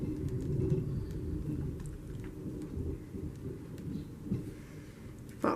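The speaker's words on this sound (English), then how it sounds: "there's the thunder" Thunder rumbles low and steady through a storm with rain falling, a deep rolling roar that swells and fades over several seconds with a sharper crack near the end.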